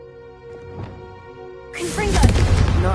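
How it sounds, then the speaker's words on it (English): A Confringo fire spell from Hogwarts Legacy bursts in loud and close, with a broad roaring crackle that swells and holds through the end, over a steady tonal game backdrop. "a Confringo cast travels a bit farther than that of a spell like Incendio"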